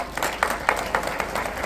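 An audience at a school ceremony honouring three top-ranking students claps in quick, fairly loud rhythmic bursts, steady and close throughout with no talking.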